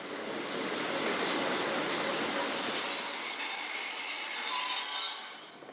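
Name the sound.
railcar slowly arriving at buffer stop, Gare de l'Est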